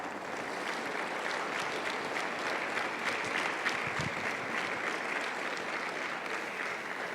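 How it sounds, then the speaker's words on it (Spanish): A church congregation claps together at a Sunday sermon, a sustained, even wash of applause at moderate volume. "Dale un aplauso al Rey,"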